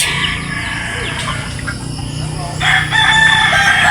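Chickens cluck and a rooster crows amid a busy yard, the calls overlapping and growing louder toward the end.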